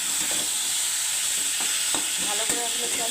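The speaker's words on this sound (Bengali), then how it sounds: "ভালো করে এখন একটু আমি নেড়ে করে মিশিয়ে নেবো" Spices sizzle steadily in a hot pan with garlic fried red and dried and green chillies, a spoon scraping through them in a few distinct strokes over a constant loud frying hiss.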